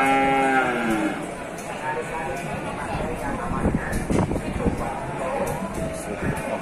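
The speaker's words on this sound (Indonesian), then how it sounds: "ini si limosin jantan milik dari Mas Imam ini ya." Limousin bull at the Pasar Wage Bumiayu livestock market gives a loud, drawn-out moo at the start, followed by market bustle with people talking nearby and further calls in the background.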